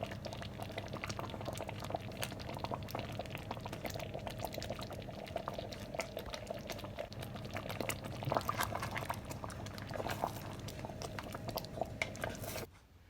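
Barbecue sauce made with Appleton rum bubbles steadily in a pot, giving a soft, continuous simmering crackle close by and no voices.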